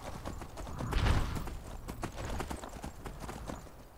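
Horse hooves clip-clop steadily in the Skyrim video game as a rider travels on horseback, a continuous rhythmic trot with a brief louder thump partway through and no talking.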